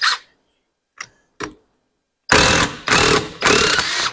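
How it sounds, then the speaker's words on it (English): A heavy impact wrench with a 13/16 socket breaks loose a bolt during charging system work on a 2012 Harley-Davidson Softail Heritage Classic. A few light clicks come first, then three loud, close hammering bursts in quick succession. "And with this big impact I got, we'll try it without holding anything."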